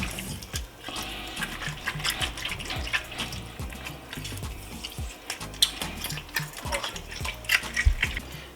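Cold tap water runs into a kitchen bowl while conch is washed by hand, a fairly quiet, irregular splashing and trickling with small knocks and no talking.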